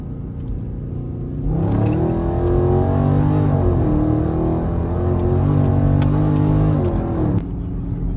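A car with a 5.7 engine accelerating hard in second gear in track mode, a loud close engine roar rising in pitch for several seconds, then easing off as the throttle lifts, no voices.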